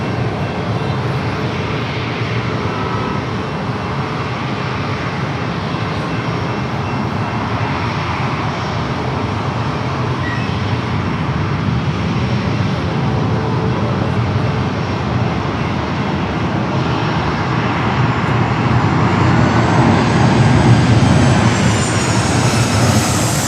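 An airplane departs San Diego airport, a sustained, loud engine roar that builds gradually and stays continuous, with no voices.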